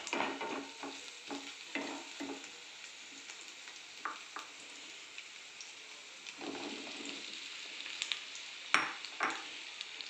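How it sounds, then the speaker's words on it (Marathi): Okra tossed into a pan of browned onion and stir-fried, a soft continuous sizzle broken by repeated scraping and clinking strokes of a spatula at an uneven pace. "छान त्याला 5 ते 10 मिनटं आपल्याला मस्तपैकी त्याला परतून घ्यायचं आहे"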